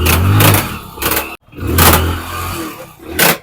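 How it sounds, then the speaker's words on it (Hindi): A motorcycle engine with a worn, noisy chain and sprocket set runs nearby, its loud rough clatter swelling and dipping in uneven surges, with a brief gap partway through. "देख सकते हो कुछ ज्यादा ही बुरी तरीके से आवाज कर रहा है ये।"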